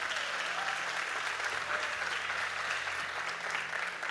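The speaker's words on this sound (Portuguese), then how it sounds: "Quem está comigo, aplauda o Senhor." A church congregation claps together during a service, a continuous wash of many hands at moderate level with no speech over it.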